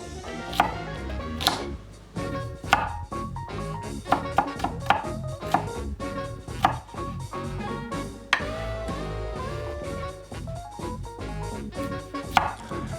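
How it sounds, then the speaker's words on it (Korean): Onion sliced into thin strips with a knife on a cutting board, sharp crisp chops in an irregular quick rhythm, close and clear, with no talking. "양파는 얇게 채를 썰어 주시고요."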